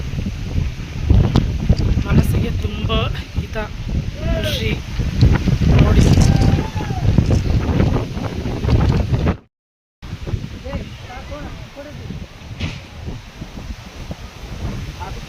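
Strong wind sweeps across a hilltop near a temple, buffeting the microphone in loud, rumbling gusts. Voices sound under the roar, and a brief dropout cuts the noise partway through.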